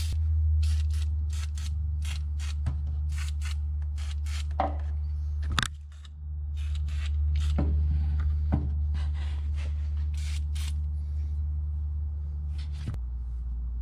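PB Blaster penetrating oil sprayed in a series of short, sharp hissing squirts onto exhaust header bolts on a 1986 Mustang SVO, close and distinct over a steady low hum, with a brief pause midway.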